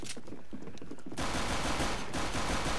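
Sustained bursts of rapid gunfire in the shooter CS:GO, loud and dense, first as separate shots and then a continuous roar of automatic fire from about the middle onward.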